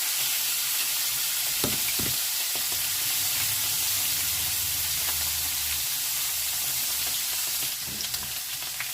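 Steady sizzling of potatoes and mushrooms frying in a pan, a continuous bright hiss with occasional soft clinks and stirring scrapes, close by.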